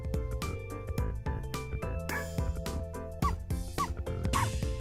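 Little squeaky, bark-like yips in the rhythm game Rift of the NecroDancer, repeating in quick bursts over a steady beat-driven music track.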